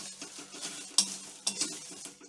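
Whole spices and bay leaves being dry-roasted for homemade garam masala, stirred in a pan with soft scraping and occasional sharper metallic clinks of the spoon against the pan, close and fairly quiet.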